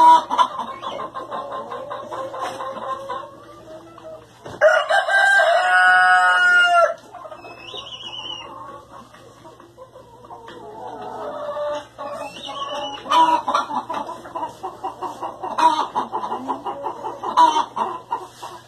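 Chickens cluck and a rooster crows loudly and close inside a backyard chicken coop, with a long crow mid-clip and busy overlapping clucks before and after, no talking.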